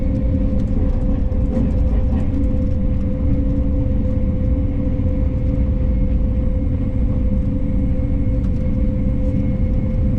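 A KTX high-speed train roars past steadily, a dense continuous rumble and hiss with a faint high whine, holding constant throughout.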